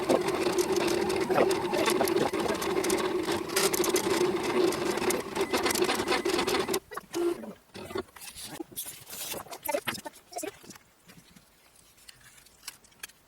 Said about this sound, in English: you just send the design to the printer